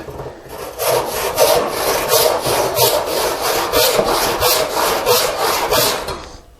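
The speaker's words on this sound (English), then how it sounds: "now I can just rip these sides off" A hand saw rips down the sides of wooden table leg stock in steady back-and-forth strokes, about a dozen rasping passes, close and loud, with no talking.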